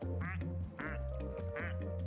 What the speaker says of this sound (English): they all have the same quack noise except Maria